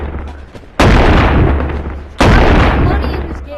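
Two loud shotgun blasts go off about a second and a half apart in the VR game Animal Company, each a sharp boom that rings out and fades slowly.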